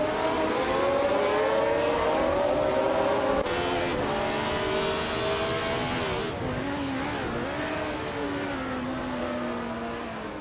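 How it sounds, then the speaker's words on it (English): Race car engines in a racing video game roar steadily and loudly, with pitch rising and falling as the cars accelerate, shift gears and jostle for position, and a brief burst of tire squeal partway through. "Kaipsas and Rizaldi Adha are battling closely for 10th place"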